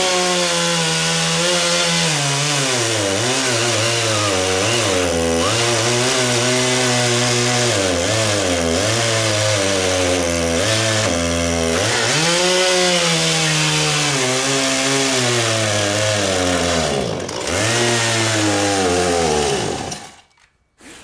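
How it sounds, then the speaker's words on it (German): A Husqvarna chainsaw revving up and cutting a test piece of wood, its loud engine whine rising and falling through repeated throttle surges before cutting off sharply at the end. "ich habe die Säge jetzt warm laufen lassen, mal einen Testschnitt gemacht"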